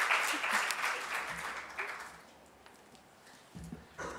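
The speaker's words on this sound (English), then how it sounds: "And I would really like you to give a huge hand of applause to Karan Gupta, the man behind KGEC" A crowd claps loudly at first, the applause fading out over a couple of seconds, followed by a few soft thumps and a brief sound near the end.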